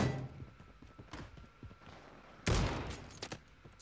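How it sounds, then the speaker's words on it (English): Gunfire in Call of Duty Warzone battle royale: scattered single shots early on, then a loud close burst of several rapid shots midway, with faint footsteps and distant pops around it. "Taking effective fire."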